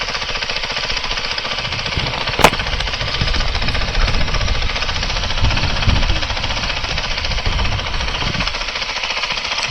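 Honda CRF450RL dirt bike engine running steadily with a rough, pulsing drone and one sharp crack partway through, close and continuous without speech.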